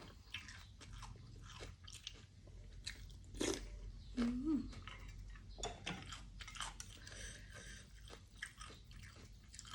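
Someone chews Udon-style curry noodles close to the mic with soft, quiet slurps, squishes and light crunchy bites in an irregular rhythm, plus a few sharper bites partway through.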